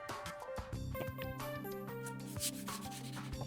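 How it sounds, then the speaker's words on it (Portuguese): Sandpaper rubs back and forth against painted MDF to remove excess paint in quick, rasping strokes, close by and continuous, with no talking. "então eu vou lixar novamente"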